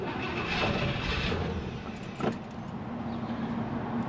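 A car engine turns over and catches briefly, then cuts out almost at once, heard from close by against a steady broadband rumble.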